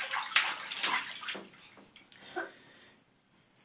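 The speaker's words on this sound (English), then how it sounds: "Can you splash again?" Child splashing water in a bathtub, several quick sloshing bursts close by that taper off into near silence, fairly soft with no voices.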